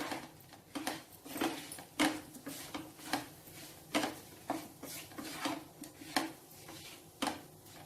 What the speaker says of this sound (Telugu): ఇప్పుడు ఇదంతా కలుపుకోవాలి.